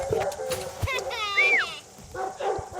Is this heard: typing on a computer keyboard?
no